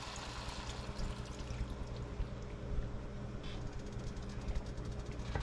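Pre-soaked taco seasoning poured into a pan of chicken for burritos, a steady wet pouring and trickling sound with a soft sizzle beneath, continuous and close.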